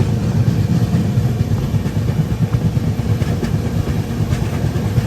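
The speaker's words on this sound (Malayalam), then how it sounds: "ഡീസൽ ലോക്കോടെ ആ ഒരു ശബ്ദമില്ലേ, WD-40 അത് ഇവിടുന്ന് തന്നെ ഇങ്ങനെ കേൾക്കണം" A diesel locomotive hauls a passenger train from Tinsukia toward Naharlagun, past farmland near the Bogibeel bridge, its engine drone and rolling rumble loud and continuous from nearby with rhythmic low pulsing.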